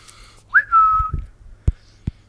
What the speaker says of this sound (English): Why did I whistle?